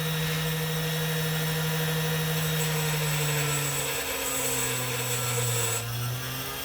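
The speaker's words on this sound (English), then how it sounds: "I'm going to just grind off that little bit of reed that we had there" A rotary tool grinds the reeded edge off a coin ring, holding a continuous whining drone that drops in pitch partway through as it bites into the metal. The sound is close and loud.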